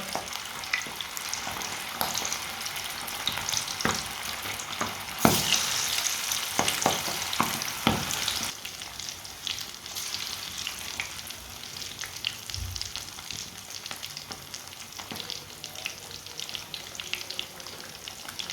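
Punjabi-style fish frying in a pan of hot oil, a dense close sizzle with scattered crackles and a few sharp utensil taps early on, easing slightly later and running without any voices.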